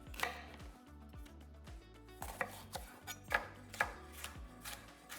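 Knife chopping diagonally through green onion whites on a cutting board, several sharp near taps at an uneven pace over steady low background music.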